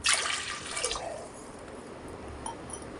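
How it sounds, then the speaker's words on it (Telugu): Water poured into a pressure cooker holding toor dal, a soft close splash at the start that tapers into faint trickling and a few drips, alone and quiet. "1 కప్పు కందిపప్పుకి 3 కప్పుల వాటర్ని నేను యాడ్ చేస్తున్నాను."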